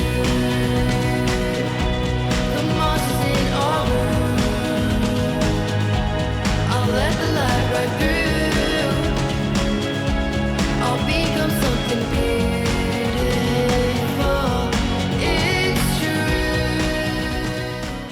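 A full, polished folk pop track with driving rhythm, layered instruments and vocals, dense and loud from start to finish before fading slightly at the end.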